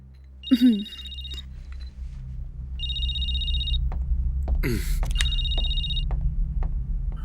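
A telephone rings in two-tone electronic bursts, three separated rings over a steady low room hum, with brief rustling and a short vocal sound near the start and middle.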